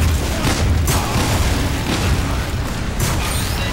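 Loud, booming cannonball blasts from the Loose Cannon weapon in Team Fortress 2, a dense run of explosive bursts over constant rumbling game noise, with no talking.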